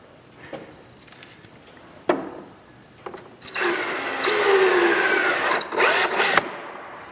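A power drill whirs loudly and steadily for a few seconds, briefly revving and stopping, after a few scattered knocks and clicks, while installing air vents near an engine's oil reservoir.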